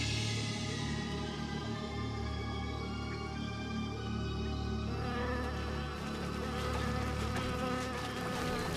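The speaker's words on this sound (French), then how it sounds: "mais ils les élèvent, les moustiques, ici" Mosquitoes buzzing in a swarm, a dense, continuous high droning whine that stays loud and close throughout, with no voices.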